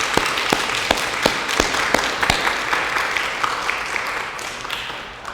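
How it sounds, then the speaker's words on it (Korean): A church congregation claps together in welcome for a pastor and his wife, a steady dense wash of applause with sharper individual claps standing out, tapering slightly toward the end. "우리 임철원 목사님과 사모님 교인들을 위해서 환영의 박수 다 같이 하겠습니다"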